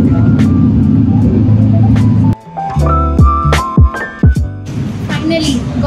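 Road traffic on a street in Hanoi, vehicles rumbling and passing nearby with horn-like tones and engine swells while people talk over it.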